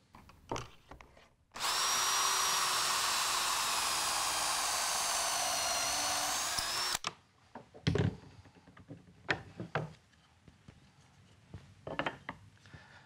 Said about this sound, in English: I'm just going to align the mark of my workpiece with the jig and drill the hole.